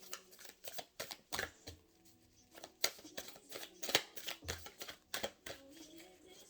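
Tarot cards being shuffled in quick crisp bursts, riffling and snapping close by, with short pauses between each run and a soft voice now and then.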